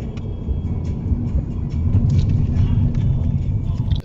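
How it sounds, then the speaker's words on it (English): Car driving over a rough, partly unfinished road surface before a roundabout, a steady loud low rumble of tyres and engine throughout, with faint rattles on top and no talking. "you may have heard there how rough it is to drive on still"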